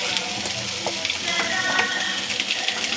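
Ginger garlic paste frying in hot oil for street-style egg fried rice: a dense, continuous close sizzle with light crackles and occasional stirring scrapes, no voices.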